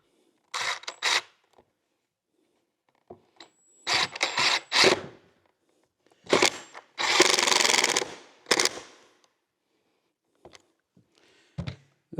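A power drill drives screws into a wooden jig in several short, loud bursts of whirring, separated by pauses and quieter handling noise.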